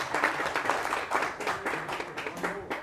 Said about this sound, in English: What are you clapping?